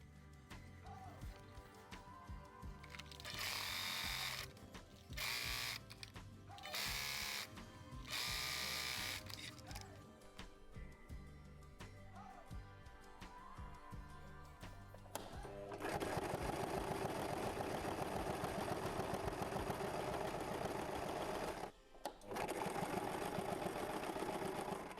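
A sewing machine top stitching a fabric cushion handle runs in several short bursts, then in a longer continuous stretch near the end, with mechanical clicks between the runs.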